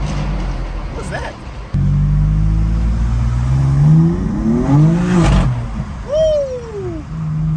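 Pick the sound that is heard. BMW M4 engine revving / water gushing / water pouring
BMW M4 engine revving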